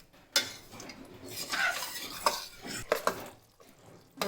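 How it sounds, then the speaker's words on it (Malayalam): A spoon scrapes and clatters around a metal pot of jackfruit payasam in uneven strokes, with a few sharper clinks, close and fairly quiet. "നല്ലപോലെ ഒന്ന് ഇളക്കി കൊടുക്കാം"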